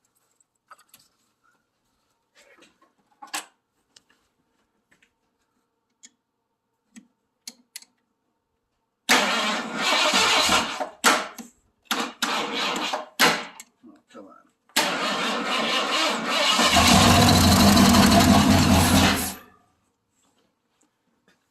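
Ford 351 Windsor V8 in a 2002 Ranger cranking over and catching, after scattered clicks and a few spoken words, loud cranking bursts stutter and then run rough for several seconds before cutting off.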